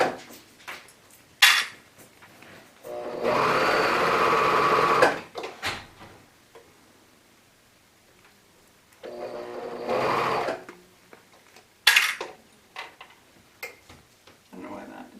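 Serger sewing machine running in short bursts, a close whirring hum lasting a couple of seconds each time, separated by quiet stretches with small ticks and handling clicks.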